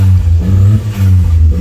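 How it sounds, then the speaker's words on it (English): Turbo Nissan Micra engine held on launch control with the clutch in and throttle floored, a loud pulsing rev with a rough low harmonic stutter, close and alone. "If I put the clutch in and floor it, it's going to have launch control."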